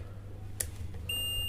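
A multimeter gives a steady continuity beep while probing the switch of a woofer under repair; the clear high tone starts partway through and holds without a break over a low mains hum.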